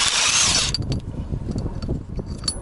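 A nut is spun off an extended wheel lug stud on a Toyota, with a burst of power-tool whir at the start, then rattling and clinking metal as the nut comes free and is handled. Close and fairly loud, with no speech.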